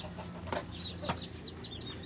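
Backyard chickens and hens cluck softly nearby, a couple of short low clucks followed by a run of faint, high chirping peeps over a quiet background.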